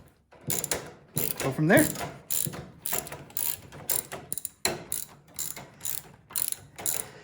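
Repeated ratchet wrench clicks loosening carburetor bolts on a Craftsman snowblower, bursts of sharp metallic clicking in an uneven rhythm, close and loud, with a brief spoken remark near the start.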